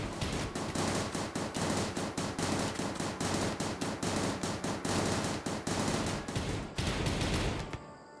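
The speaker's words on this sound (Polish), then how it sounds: "wystrzelili jakieś kurde 100 pocisków, lekko licząc" RimWorld battle with many guns firing at once: dense, rapid bursts of loud gunshots in quick uneven rhythm that run almost without pause, then cut off near the end.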